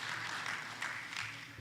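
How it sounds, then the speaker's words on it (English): Audience applause at a national youth consultation in Barbados, a faint, steady wash of clapping that continues evenly throughout. "let's give her a round of applause again"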